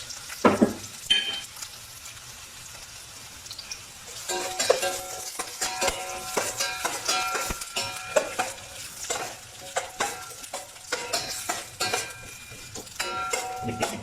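Onion and garlic sizzling in a hot pan for a patola soup with sotanghon and meatballs, under a steady frying hiss, with frequent clinks and scrapes of a utensil stirring close by.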